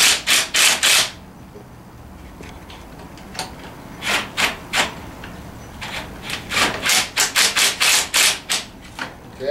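Allen wrench starting the bolts on the handlebar plate of a Tao Tao 110 racer ATV, heard as bursts of quick ratcheting clicks and rubbing metal turns in several separate runs, close up, with no talking.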